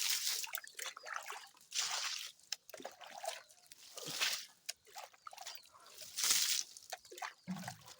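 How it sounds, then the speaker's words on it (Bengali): Water is poured from close by onto a potted lemon plant, making irregular splashing, trickling and dripping bursts that come and go over several seconds, with no talking. "এখন আমি জল দিয়ে দিব এই যে জল দিচ্ছি"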